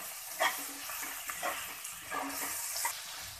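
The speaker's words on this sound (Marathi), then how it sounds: "हा टॅमॅटो सुद्धा या कांद्या आणि लसणीच्या ह्याच्यासोबत परतून घेऊया।" Chopped tomato, onion and garlic sauté in a pan over low-to-medium gas, with a soft steady sizzle broken by light scraping stirs at irregular intervals, fairly quiet and close.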